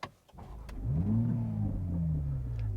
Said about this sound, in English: we're going to turn the car back on